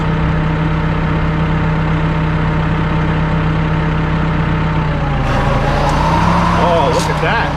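A tractor engine idles steadily at around 1,000 RPM with a low, even rumble; toward the end, faint voices are heard over the running motor.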